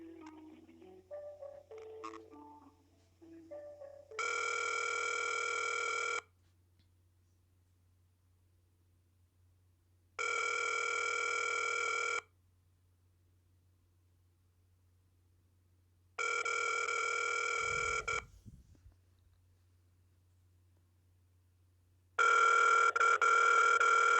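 An outgoing call to a county circuit court clerk's office rings on a telephone line, with four evenly spaced ring bursts about two seconds long and separated by silent gaps, alone over a low line hum, followed by brief dialing tones.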